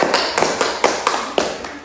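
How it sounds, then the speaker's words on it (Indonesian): Classroom applause after a student group's presentation: a handful of sharp, uneven hand claps, close and fairly loud, scattered over about two seconds rather than a full sustained round. "Oke, beri tepuk tangan."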